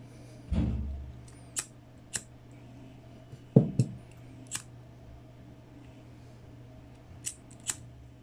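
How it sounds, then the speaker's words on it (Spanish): Scissors snip the threads of an eight-thread macrame bracelet, giving a series of sharp, close clicks and snips spread across a quiet room, with a couple of heavier thumps among them. "Y ahora sí cortamos nuevamente los hilos y quemamos."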